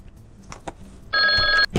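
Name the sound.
telephone ringing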